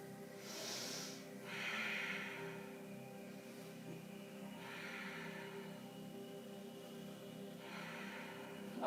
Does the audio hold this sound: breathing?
yes